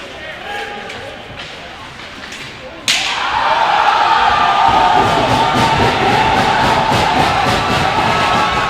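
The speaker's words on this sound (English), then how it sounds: "Alpena crowd like that hit on Leetart" Alpena crowd erupting into loud cheering after a hit at a high school hockey game, a sudden roar that holds steady over rink noise while a commentator talks.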